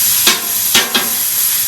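Steak sears for a Philly cheesesteak, a steady close hiss of sizzling meat with three short bursts of louder spitting crackle.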